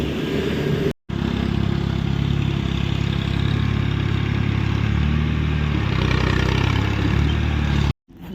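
A sugar mill motor drives a cane cutter, a steady loud mechanical drone with clatter heard up close, continuous for several seconds with two brief dropouts.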